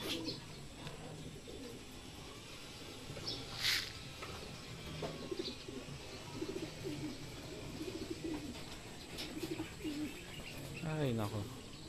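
Pigeons cooing and chirping at a club training session, with soft low coos repeating through the clip, a few brief wing flaps and calls, and people talking quietly nearby.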